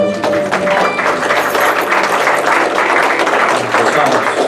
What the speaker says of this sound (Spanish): Démosle el aplauso fuerte